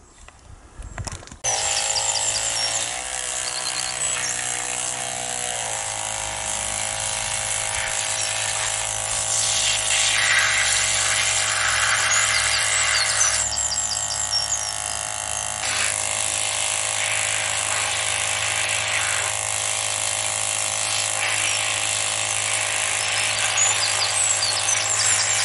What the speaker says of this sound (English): It's a little bit noisy, so forgive the sound of the pump going.